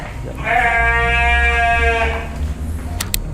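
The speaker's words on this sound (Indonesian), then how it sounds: "Domba-dombanya." A sheep in a pen on a farm lets out one long, loud bleat lasting about two seconds close by, followed by faint farmyard background noise.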